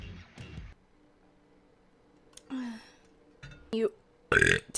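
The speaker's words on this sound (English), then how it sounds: "I'm sorry I burped." A streamer's burp heard up close, one short throaty belch in a quiet room with scattered brief vocal noises around it.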